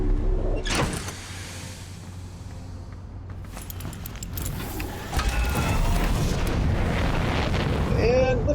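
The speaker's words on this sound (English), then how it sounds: "And liftoff! We have liftoff!" Scout probe launching in Outer Wilds, starting with a sharp mechanical clunk and then a rising roar of thrust that swells and holds steady, loud and close, with a short whistling tone near the end.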